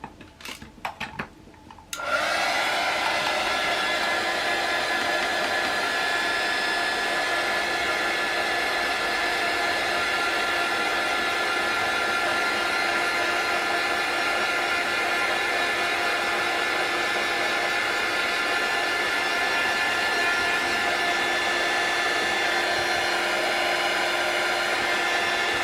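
A hair dryer clicks on after a couple of seconds of small handling sounds, then blows in a loud, steady, high-pitched whir that continues unbroken to the end, with no talking.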